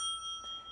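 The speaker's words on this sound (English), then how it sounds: "up, you'll hear this bell." A bell rings a single steady tone with sustained harmonics, the timer signal at a televised Senate candidates' debate between Fetterman and Oz, heard alone and fairly clear throughout.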